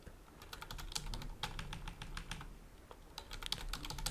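Fingers tap rapidly on a computer keyboard, a quick irregular run of light clicky keystrokes, close and fairly quiet, with no voices.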